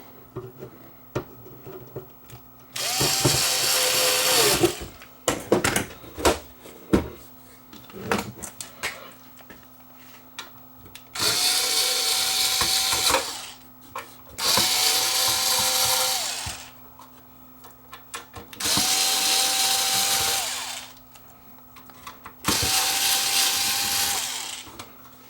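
A power drill spins out screws from the front panel of a 6-channel stereo mixer in four loud, steady whirring bursts, separated by quieter handling clatter and knocks.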